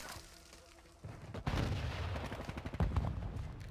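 Desert Eagle pistol fire in the Call of Duty Modern Warfare 2 video game, with several sharp, loud shots cracking in quick succession amid ongoing in-game combat noise.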